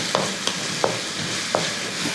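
Sliced onion and green chilies frying in a pan for egg masala curry, a steady sizzle broken by a few sharp scraping stir strokes, close and clear with no voices.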